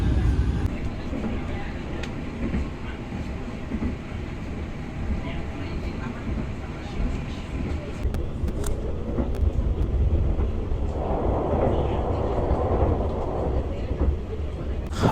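Ranggajati passenger train running, a continuous low rumble with rattling, heard from on board throughout, with a brighter rushing swell toward the end and talk over it.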